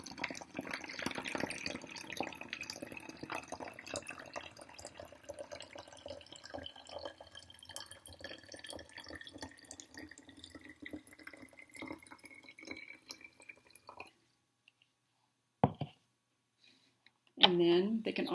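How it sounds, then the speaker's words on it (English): Water poured a little at a time into a cup during a children's fine motor practice activity, a soft continuous trickle and drip that runs for several seconds, then stops, followed by a couple of brief clinks. "they're just going to practice pouring water"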